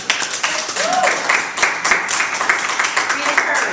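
An audience claps in steady applause after a personal talk, the clapping continuing under a speaker's voice for the whole stretch.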